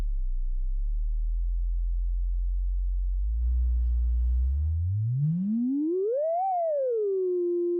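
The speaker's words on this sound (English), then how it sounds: "And it's a really nice pure sine wave." A Eurorack modular synthesizer puts out a pure sine wave that holds low and steady, then glides smoothly upward in pitch, peaks and settles at a higher steady tone, alone and clear.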